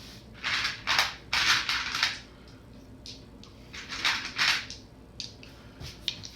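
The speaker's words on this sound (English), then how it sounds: "Land shots. Shore bombardment. Boom! 1 hit. 2 hits." Naval shore bombardment in a WWI strategy video game sounds as a handful of sharp, bursty explosion hits, grouped in quick clusters with short pauses between them.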